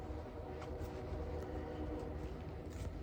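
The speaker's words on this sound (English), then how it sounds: "this is one that's closer to the railroad track, so we're hearing a lot of the trains." Trains on a railroad track close to an Indian mound in Conneaut at night give a steady, loud, low rumble with a continuous mechanical drone and no breaks.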